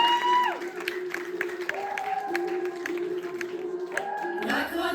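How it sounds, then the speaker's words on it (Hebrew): An audience at a Purim play claps together in a sustained round of applause, moderately loud, with a song's sung melody carrying over the clapping throughout. "כפיים."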